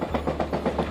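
A passenger train in Alaska rolls along the rails with a steady low rumble and a soft, rhythmic clickety-clack of wheels repeating several times, heard from inside the train with no talking.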